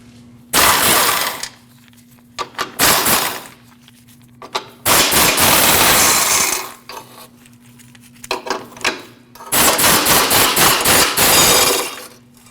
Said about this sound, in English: We're going to start off by taking these 4 18mm bolts out